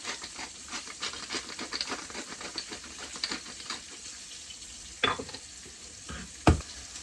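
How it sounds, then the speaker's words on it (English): Butter sizzling and frying in a hot pan, with stirring and scraping, a steady crackle under a few sharp utensil knocks near the end. "So when it's hot, I add the butter, be generous."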